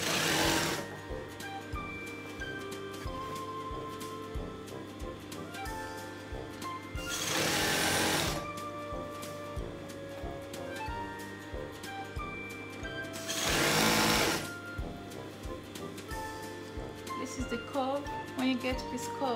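A sewing machine stitches the seams of a mermaid skirt in long, steady buzzing runs. Two brief louder bursts break up the stitching, and the machine is clear and close throughout.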